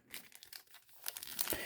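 Pokémon card booster packs, Astral Radiance and Silver Tempest from Sword and Shield, being torn open: close crinkling foil and tearing that grows busier and louder toward the end.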